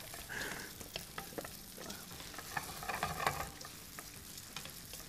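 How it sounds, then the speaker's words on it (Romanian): Meatballs frying in a pan while a spaghetti carbonara is cooked, a steady sizzling crackle with scattered sharp pops and spits, close and moderately loud, with no talking. "Trebuie să prăjim bine cu bulețele astea."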